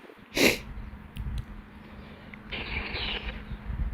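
A single sharp, loud sneeze bursts out near the start, followed by quieter rustling and a low steady hum.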